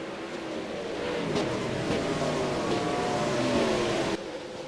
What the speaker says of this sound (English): Tayton Sander fires in car 42